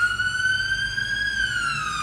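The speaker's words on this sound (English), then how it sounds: "There is a ambulance out here that went into the fire department," A wailing ambulance siren sounds steadily outdoors near a fire department, a loud sustained tone slowly rising and falling over low traffic rumble, with no talk.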